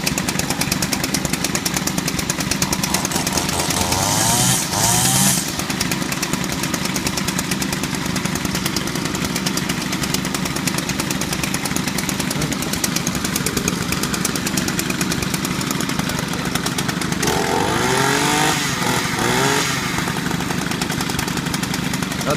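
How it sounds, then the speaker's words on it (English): A Stihl or Echo weed whacker's two-stroke engine runs steadily after a cold start in early spring, a loud continuous buzzing drone with revving swells, heard close up without talk. "Pick up the weed whacker and give it a gas."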